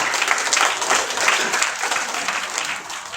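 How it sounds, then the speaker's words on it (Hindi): An audience at an Alliance Clubs International district event claps loudly and steadily in a dense, continuous burst of applause that fills the short moment without any voices. "जोर से ताली।"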